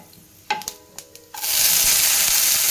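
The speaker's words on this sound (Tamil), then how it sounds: "அந்த ஸ்டேஜில் நாம் வெங்காயம்லாம் போட்டுக்கலாம்." Onions tipped into hot oil with whole cloves for a ladies finger soup, a few clattering stirs and drops, then a loud, steady broadband sizzle that continues to the end, close and alone.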